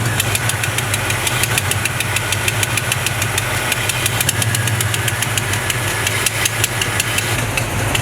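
A 1970 Chevrolet C20 truck engine runs steadily up close, a loud continuous idle with a rough, knocking pulse and no talk over it.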